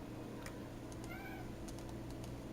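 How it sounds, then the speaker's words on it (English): Domestic cats fighting indoors, a few short faint meows and yowls rising over a steady low background hum with no talk. "my cats are fighting"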